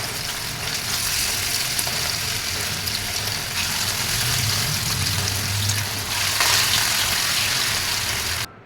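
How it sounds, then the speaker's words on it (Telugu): Fish pieces frying in hot oil in a pan, a loud dense sizzle with crackle that holds steady and close throughout, swelling slightly near the end before cutting off abruptly. "ఆయిల్ బాగా హీట్ అయిన తర్వాత మనం ఫిష్ ముక్కల్ని ఇందులో వేసుకుందాం"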